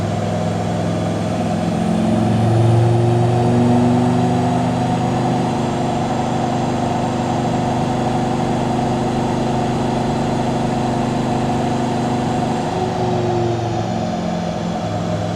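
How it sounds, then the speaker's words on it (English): A modified Land Rover Discovery Td5 diesel engine with a GTB550 turbo runs on a dyno, a steady drone at constant revs with a low rumble and faint shifting tones, continuous without pauses or voices. "It's time to sync the engine RPM to the dyno."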